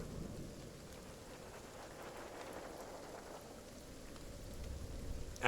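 Video game rainstorm with thunder: a steady soft hiss of rain with a low, rolling rumble that swells slightly toward the end, fairly quiet and heard on its own.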